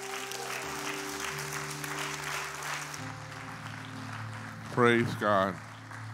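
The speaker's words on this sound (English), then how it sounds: "Let's clap." A church congregation claps steadily through a Christmas Day service at Turning Point Fellowship, with sustained keyboard tones underneath and a voice calling out briefly near the end.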